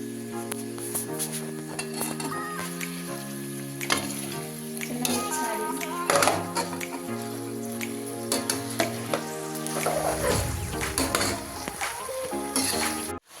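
Onion and capsicum fry in a pan with curry leaves for a chicken pepper dish, a continuous sizzle with scraping stirs and clinks of a utensil, under steady background music.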